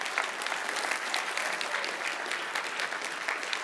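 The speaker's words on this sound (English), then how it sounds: "So a round of applause for Trent" An audience at a physics lecture applauds for Trent, with steady, dense clapping from a moderate-sized crowd throughout.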